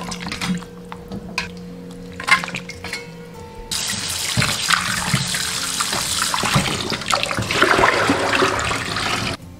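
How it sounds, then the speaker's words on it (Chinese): Boiled pig trotters are rinsed under a running kitchen tap: a few clinks and handling sounds, then a strong steady gush of water splashing into a sink, close and continuous for the rest of the clip. "好了，我们捞起来清洗干净。"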